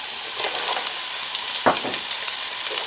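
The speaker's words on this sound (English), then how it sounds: "Saute it for a few seconds." Chopped broccoli and carrots sauteing in a hot pan, giving a steady close sizzle with light crackles and one brief scrape of stirring, no voices.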